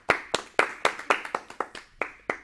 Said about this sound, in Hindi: तो इसके लिए एक बार जोरदार ताली तो बनती है